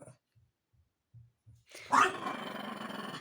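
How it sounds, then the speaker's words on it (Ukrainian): A dog growls, rough and close, in a steady rumbling burst lasting over a second while playing with a toy penguin, preceded by a few soft low sounds. "Ну, то як гратися, як ти гарчиш?"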